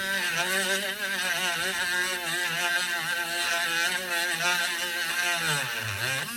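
A cheap $7 Harbor Freight rotary tool sands light paint off metal, whining steadily at high speed with a wavering pitch, then dipping and bogging down near the end as it is pressed harder.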